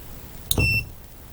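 A single short electronic beep from a drone's buzzer, bright and tonal, sounding once for about a quarter second against a quiet background.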